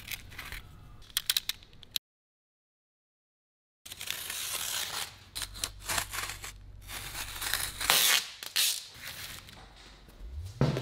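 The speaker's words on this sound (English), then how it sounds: "so we can cut that straight?" A panel for an off-grid indoor van shower in a Sprinter van is cut along a drawn line, giving scraping, crinkling cutting noises in uneven bursts, close, broken by a brief silent gap, with no talking.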